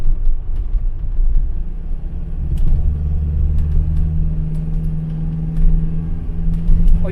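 A running MK3 Ford Cortina with a Pinto engine and A4LD automatic box idles with a deep, steady rumble, while small sharp rattles from a loose connection on the side of a seat tick in now and then; no talking.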